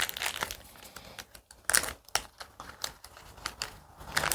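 Plastic zip bag crinkling and rustling as a cocktail straw is pushed inside, up close with short irregular crackles and pauses, no talk.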